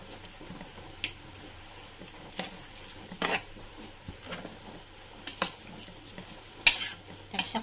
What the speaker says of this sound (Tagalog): Haluin mo na.